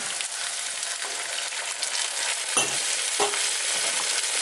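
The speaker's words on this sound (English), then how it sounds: "And now you stir it up." Red wine is stirred into an oxtail stew in a pot, with close scraping spoon strokes over a continuous soft sizzle.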